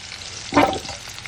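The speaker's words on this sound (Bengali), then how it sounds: "আলুটা কুমড়োটা দেখো এখানে কিন্তু বেশ লাল লাল করে ভেজে নেওয়া হয়েছে" Potato and pumpkin pieces deep frying in hot oil for a festive-style chhechra, a steady bubbling sizzle that swells into a brief, louder crackling burst midway, with no one talking.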